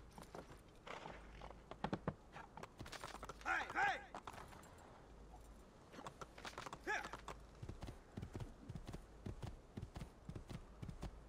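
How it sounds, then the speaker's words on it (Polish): Horse hooves clip-clopping in Assassin's Creed II as the rider mounts and sets off, rhythmic quick hoofbeats with a brief snort or whinny, moderately close, in bursts separated by short pauses. "To co, wsiadamy na konia i lecimy."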